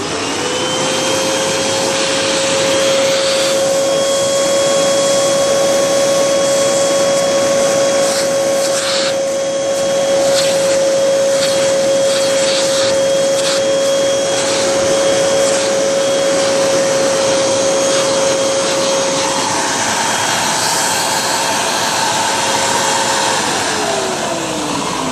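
A Hoover Triple Vortex V1500 upright vacuum cleaner from 2000 running steadily with its hose in use, giving a loud, continuous whine and rushing airflow with small rattles of picked-up debris, then dropping in pitch near the end.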